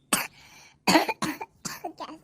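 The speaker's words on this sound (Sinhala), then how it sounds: "කැස්ස බං මේකේ තියෙන දූවිල්ලට." Cartoon character coughing from corridor dust, three or four harsh close coughs in quick bursts with short pauses, no talk alongside.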